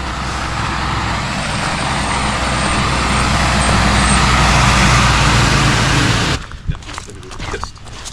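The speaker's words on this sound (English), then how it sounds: "There's a car coming." A heavy vehicle rumbles loudly past on a road at high elevation, its noise building and then cutting off abruptly, leaving quieter wind and background sound. People are on foot nearby.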